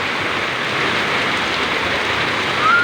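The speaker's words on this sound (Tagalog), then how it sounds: "tuloy-tuloy na ang malakas na ulan" Heavy rain pours down steadily in a dense, even hiss that stays loud throughout, with no talking.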